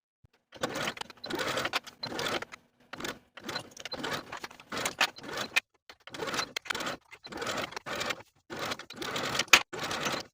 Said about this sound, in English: Now we can take this to the sewing machine and sew from outer edge to outer edge